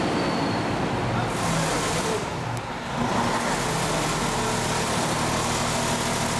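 Automatic generator engine dropping back to idle speed, a steady broadband motor drone with a brief dip in the middle before settling into a continuous idle rumble.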